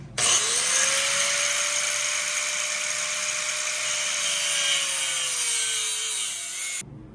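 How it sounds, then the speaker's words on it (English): A cut-off wheel grinds through a steel braided hose in one loud, continuous high-pitched screech of about six and a half seconds, starting and stopping abruptly, with a faint falling whine from the wheel. "You got to cut it with a cut-off wheel or something like that."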